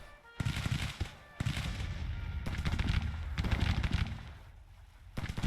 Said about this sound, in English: One shot of our artillery.